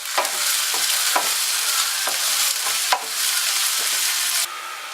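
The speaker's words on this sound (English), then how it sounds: "when your oil is hot, get your ginger and garlic, add it to the pan and fry for about 2 minutes or so." Ginger and garlic frying in hot oil for beef vindaloo, a loud bright close sizzle with several scraping stirs, easing slightly at the very end; no one speaks.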